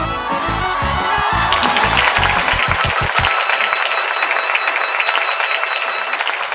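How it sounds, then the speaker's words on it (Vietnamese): Audience applause for a cải lương performer at a televised Vietnamese folk opera show, loud sustained clapping with cheering, music with drum hits underneath at first, then clapping alone. "một tràng pháo tay cho nghệ sĩ Kim Tử Long"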